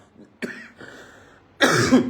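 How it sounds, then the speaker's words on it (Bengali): A man coughs up close: a sharp single cough, a short rough throat sound, then a louder, harsher fit of coughing at the end. "কাশি চলে আসছে ভাই"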